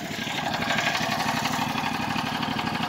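A 653cc Landmaster LM650 UTV engine idles steadily, a close, continuous rough mechanical drone with an even pulsing rhythm and no talk over it.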